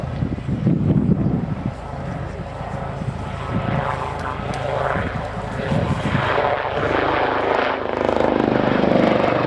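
A Lynx helicopter flying an aerobatic display at the RIAT airshow, its rotor and engine noise steady and fairly loud throughout, swelling toward the end, with broadband outdoor wash and no talk.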